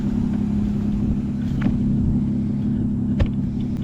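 A Nissan Z pulls away with a steady, loud low engine drone and rumble close by, a few brief clunks and knocks over it, no voices.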